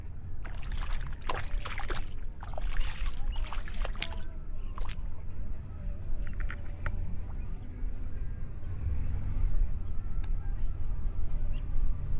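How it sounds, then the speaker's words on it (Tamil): A rice planting machine drives through a flooded paddy field, a steady low engine rumble running throughout, with splashy clatter and sloshing of water early on and faint chirps overhead. "இப்போ இந்த வண்டி கொஞ்சம் எங்களுக்கு ஓட்டி காமிக்க முடியுமா ஓட்டி காமிக்கிறேன்"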